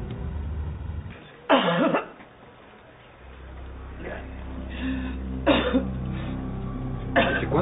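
Coughing from a person in a domestic drama scene, a few short harsh bursts spread apart over a quiet room background.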